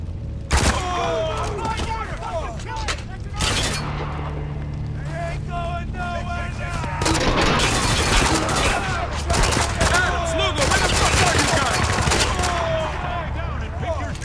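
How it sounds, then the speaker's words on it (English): Video game gunfire in Spec Ops: The Line, with loud repeated bursts of automatic fire over a constant rumbling backdrop, with blind-fire shots breaking through in several clusters across the clip. "blind fire for the man"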